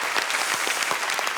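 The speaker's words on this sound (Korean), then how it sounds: "다시 한번 큰 박수 부탁드리겠습니다." Studio audience applause on a KBS variety show, a dense, steady wash of clapping hands filling the whole moment with no voices over it.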